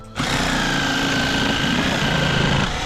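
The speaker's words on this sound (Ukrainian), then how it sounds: "У нас тут є якась планка, пробуємо її перерізати." Power tool starts abruptly and runs at a steady, loud, high-pitched whine with a buzzing motor drone while cutting through a plank, close by and continuous until it stops near the end.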